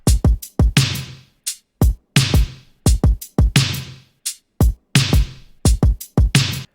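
An 80s synthwave-style drum beat: thumping kicks, bright reverberant snares and crisp hi-hats on each quarter note loop in a steady, loud groove, with no voices over it.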